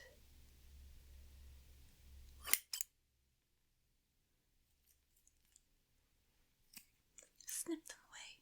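Scissors snip close to the microphone in a whispered ASMR session: a couple of sharp, crisp cuts, then a quiet pause followed by scattered light snips and clicks near the end.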